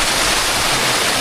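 Monsoon runoff pours down the stone stairs of a hill fort, a loud, dense, unbroken rush of water close by, like a small waterfall, with no voices.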